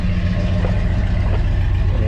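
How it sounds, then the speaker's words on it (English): A truck's engine idles at a car meet in Bay City, a steady low rumble close by, with a person's voice briefly heard over it. "Well, that's a sound of a truck."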